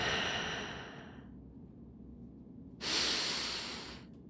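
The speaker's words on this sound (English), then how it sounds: "Hear my breathing." Two slow, close breaths: a long airy exhale fading out, a short quiet pause, then a sharper inhale rising again.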